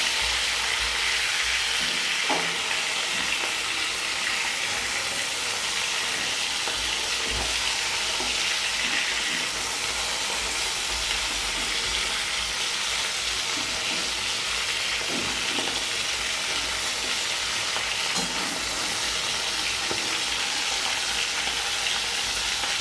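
Fish fries lightly in a pan for a mustard curry, a continuous dense sizzle and hiss close by, with occasional soft knocks as pieces are turned over; no voices.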